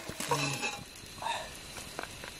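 Spices are tempered in hot oil for chicken gravy, a soft, steady sizzle close by. A faint stirring clink comes through briefly and a quiet voice sits in the background.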